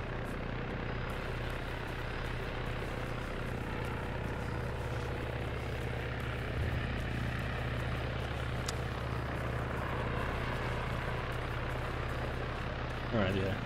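Helicopters in the Arma 3 combat game, two Little Birds among them, drone steadily throughout as a constant low rotor and engine hum, with players talking over it.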